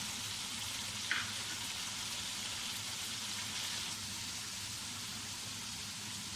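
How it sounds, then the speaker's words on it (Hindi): Boiled goat meat frying in mustard oil with turmeric, a steady soft sizzle hissing throughout, fairly quiet and even with one small clink near the start. "बॉयल गोश्त को थोड़ा सा भून लिया है सरसों के तेल में।"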